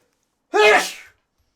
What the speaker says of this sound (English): What a sneeze